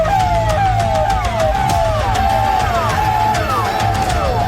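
Several wailing sirens sound continuously across town in Bahraich near the Nepal border, their overlapping rising and falling sweeps loud and sustained throughout.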